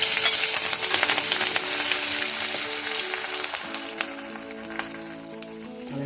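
Close, steady sizzling and crackling of shallots, garlic and curry leaves frying in hot oil after mustard seeds pop, with scattered pops, gradually easing a little in loudness.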